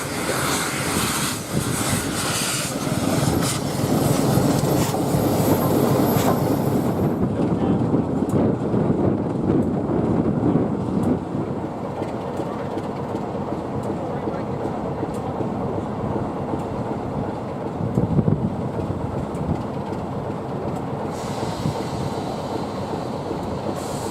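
Locomotive 46521 hauling a dining train on the Great Central Railway, a loud rumbling pass-by that builds, swells and then fades to a steady distant drone with wind buffeting the microphone.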